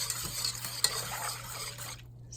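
Frog eye salad pudding mixture cooks on a stovetop over medium heat, stirred frequently with a spoon scraping the pot amid a soft continuous bubbling hiss that cuts out abruptly near the end.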